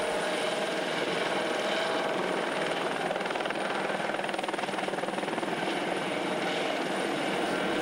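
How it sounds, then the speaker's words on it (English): Eurocopter EC120 helicopter with a fenestron tail rotor and three-bladed main rotor, a steady, fairly loud turbine whine and rotor drone holding evenly throughout, with no voices. "The Eurocopter is one of the few helicopters operating in New Zealand with a fenestron tail rotor."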